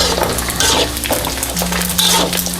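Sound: stirring pork belly frying in oil

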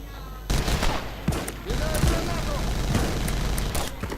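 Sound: automatic gunfire in the video game Battlefield 2142

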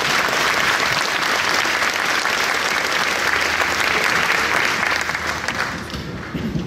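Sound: audience applause at army graduation

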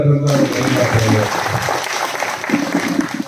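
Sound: crowd applauding loudly

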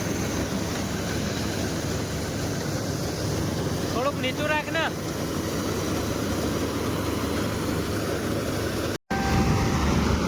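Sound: paddy harvester machine running, cutting rice

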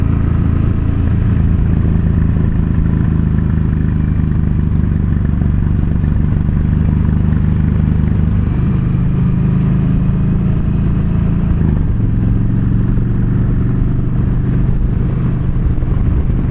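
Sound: motorcycle riding on a road

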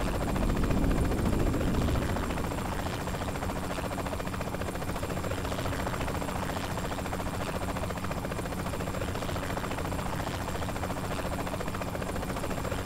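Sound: helicopter in video game Saints Row IV

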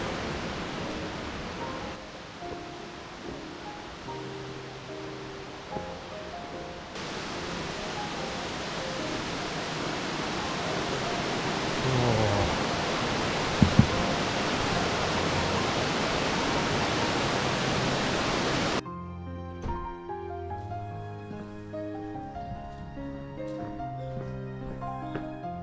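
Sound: Nachi waterfall on the Kumano Kodo

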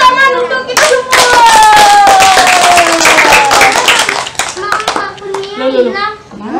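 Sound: clapping hands

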